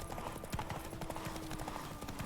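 Hooves of Roach, Geralt's horse in The Witcher 3 Wild Hunt, clip-clopping at a steady trotting rhythm, fairly close and moderately quiet, with faint background game sound.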